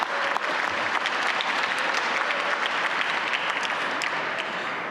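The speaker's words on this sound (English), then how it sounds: "Let's give him a round of applause." Sustained audience applause for the evening's host at a workforce training center awards celebration, a thick, even wash of many hands clapping that holds throughout and eases slightly at the end.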